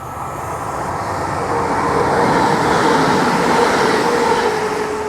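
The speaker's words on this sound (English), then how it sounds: "and there's a train coming through." A train passing through Hamstead station on a Birmingham rail line near the River Tame: a loud, steady rumble and rolling wheel noise that swells and holds, with no voices.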